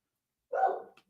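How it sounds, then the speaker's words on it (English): A single short dog bark, clear and fairly close, followed by a faint tiny yelp, with no talking. "They're still barking."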